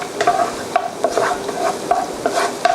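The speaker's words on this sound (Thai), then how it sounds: "รากผักชีกระเทียมพริกไทยที่เราผัดไว้นะครับ ก็เริ่มหอมแล้วนะฮะ แล้วก็ เริ่มสุกแล้วนะครับ" Coriander root, garlic and pepper stir-fried in a pan for a Thai fried snack, with repeated scraping spatula strokes over a soft continuous sizzle, close and fairly loud.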